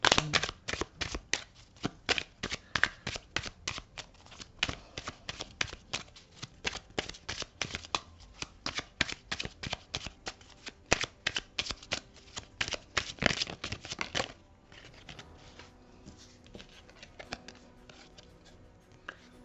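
Oracle cards are shuffled by hand in rapid bursts of crisp flicks and riffles for about fourteen seconds. Softer handling noises follow.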